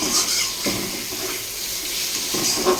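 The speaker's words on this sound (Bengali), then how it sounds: "কষা হয়ে গেছে এবার আমি জল দেবো তরকারিতে" Cold water poured from a vessel into a pan of fried spice paste for fish curry, a continuous close splashing gush with faint clinks at the start and end.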